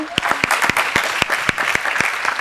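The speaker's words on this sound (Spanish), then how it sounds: "pues un aplauso para ellos porque se lo merecen" Participants in a group session applaud a pair of classmates with crisp, separate handclaps in a lively, irregular patter, close and fairly loud, with faint voices in the room.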